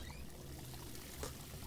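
Flowing water in the Roblox game Jack's Circus, a steady soft rushing pour heard alone at low level with a slight splash partway through.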